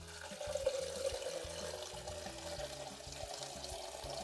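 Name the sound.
water running from tap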